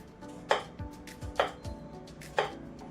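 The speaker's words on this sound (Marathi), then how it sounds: "अशा पद्धतीने आता कट करून घेऊया भोपळा।" A knife chops bottle gourd into small pieces on a board, three distinct close thuds about a second apart with softer knocks and scrapes between them, no talking.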